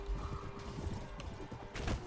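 Horse hooves clip-clopping in a Mount and Blade: Warband battle, a steady rapid gallop close by with a brief whinny near the end, over busy combat noise.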